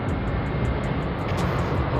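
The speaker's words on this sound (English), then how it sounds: "plane coming in" A fixed-wing airplane comes in low overhead near a parked Volvo 240, a steady broad roar that fills the whole stretch at constant loudness with no voices over it.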